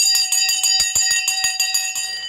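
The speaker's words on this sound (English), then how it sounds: "I wanted to ring the bell live for you as this is being made during a live show" A bell rung live during a stock market show: a rapid series of bright, metallic strikes ringing close and loud, each clang leaving a sustained shimmering tone before the ringing slows and fades.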